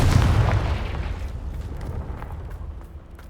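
A Confringo spell blast in the Hogwarts Legacy video game erupts as a loud, deep boom that fades into a rumbling decay over about three seconds.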